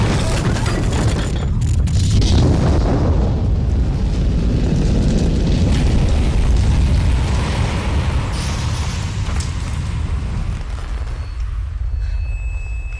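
A bomb going off outside a plaza: a loud, sustained low rumbling roar of blast and debris that fills the whole stretch, easing slightly toward the end.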